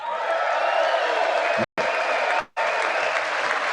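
Members of Congress applauding at a State of the Union speech, a dense roar of clapping filling the room, loud and sustained with two abrupt cuts near the end.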